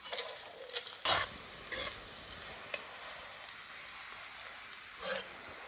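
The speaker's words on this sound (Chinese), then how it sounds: "先炒干鱼嘛" Dried fish stir-frying in a wok, a faint low sizzle broken by a few sharp scrapes and clatters of the spatula, quiet and close with no voices.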